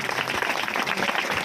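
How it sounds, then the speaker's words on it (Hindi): Congregation clapping hands at a church gospel meeting in Damua, Chhindwara, a dense, fairly close burst of many hands with a faint voice mixed in. "वो ताली बजा के परमेश्वर का धन्यवाद करे।"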